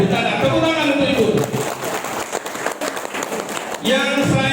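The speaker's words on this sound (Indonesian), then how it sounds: "Tepuk tangan untuk Ibu." An audience claps at an opening ceremony in Sanggau-Sekadau, a burst of applause in the middle while a voice speaks over the start and end.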